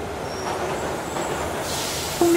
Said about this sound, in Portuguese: O Ruka achava o ruído e a agitação do metro a chegar um bocadinho assustador.